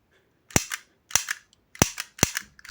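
A toy mini Glock pistol fires pellets with four sharp, close cracks at uneven intervals, each followed by a brief mechanical rattle, with no talk.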